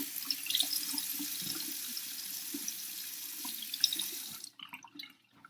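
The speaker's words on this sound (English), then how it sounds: "So, I'm gonna wash my face." Water from a bathroom sink tap running steadily while a face is washed, a continuous close splashing hiss that stops abruptly near the end, followed by a few faint drips and handling sounds.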